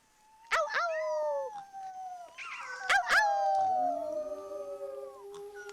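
A group of people at a virtual party howl together, overlapping voices imitating wolf howls in long rising and falling calls, loud and close, with a second burst partway through.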